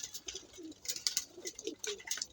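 Pet racing pigeons coo softly in a loft, several low repeated coos mixed with light fluttering and scratchy movements, close and quiet, no talking.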